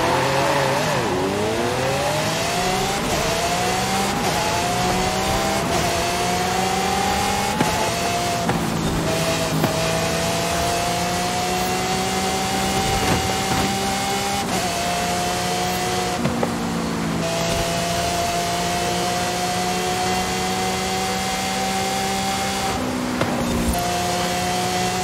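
Race car engines in the Mexico Goliath race in Forza Horizon 5. A loud, continuous engine drone rises in pitch through repeated gear shifts, with steady high revs and occasional small bumps, close and unbroken throughout.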